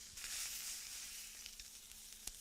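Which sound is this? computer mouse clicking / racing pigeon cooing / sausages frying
sausages frying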